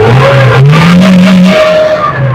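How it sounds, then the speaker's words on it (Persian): A carburetted Nissan converted to Siemens fuel injection revs loudly and close, its engine pitch climbing and easing in smooth sweeps with no talk over it. "ماشین تک استارت روشن شد. چه نرم و خوب گاز میخوره"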